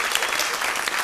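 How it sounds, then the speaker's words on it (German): Audience applause for a birthday guest at a Swiss folk music evening, a dense steady clatter of many hands throughout the short burst. "Riesigen Applaus für unser Geburtstagskind"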